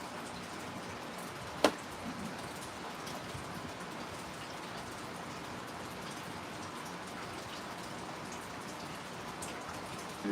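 Rain falls in a steady, even hiss, with one sharp click early on and no voices over it.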